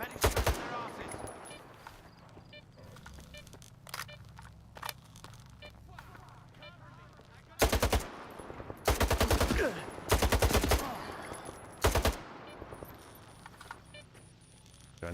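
Video game gunfire: bursts of automatic fire, some short and some sustained, loud and sharp, separated by quieter gaps filled with footsteps and small clicks.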